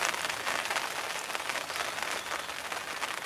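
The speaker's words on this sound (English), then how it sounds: "This rain wasn't forecast" Steady rain falling at a fishing lake, a dense, even hiss of drops on surfaces that holds close and fairly loud throughout, with no voices.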